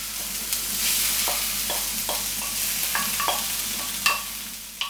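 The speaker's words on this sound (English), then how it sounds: "Add the cooked basmati rice to the pan and stir until well combined." Cooked basmati rice with peas is stirred in a frying pan for a smoked kipper kedgeree, giving a soft continuous sizzle broken by repeated scraping strokes of a utensil, close up and without talk.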